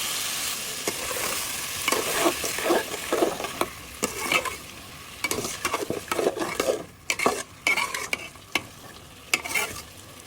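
Hyacinth bean seeds fry and sizzle in a pan while a utensil stirs them in irregular scraping bursts, close and fairly quiet, with no talk over the cooking.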